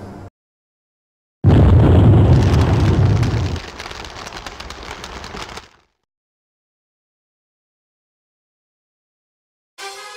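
A loud explosion blast bursts in for a short film, a heavy roaring rumble that holds for a couple of seconds and then tails off into a fading crackle before dropping to silence.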